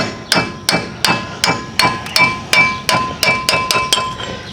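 Sharp metallic hammer blows on a chisel, about a dozen in a steady rhythm, each ringing briefly, close and loud with no talking, while removing a 1997 Land Rover front hub.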